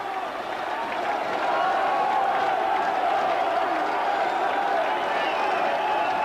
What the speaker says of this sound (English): Well, you can listen to the crowd now